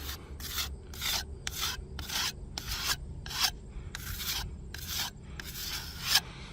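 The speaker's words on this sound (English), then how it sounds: "I'll go ahead and wipe that excess off again here, just like that" Excess deck filler is wiped off wooden deck boards with rhythmic strokes, about a dozen short rubbing swipes repeating at an even pace, close and clear with no talking.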